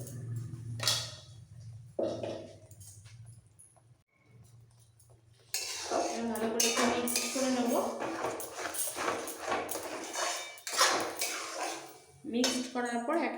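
A bowl rinsed with a little water in a kitchen while cooking, with clinks and scrapes of dishes and utensils, intermittent splashes, and a person talking over much of it.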